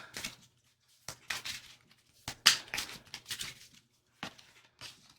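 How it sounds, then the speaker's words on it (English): Tarot cards being shuffled in hand, giving a series of soft, papery riffling and flicking bursts at close range, separated by short pauses, with no talking. "now what I'm gonna do is shuffle the Alki cards"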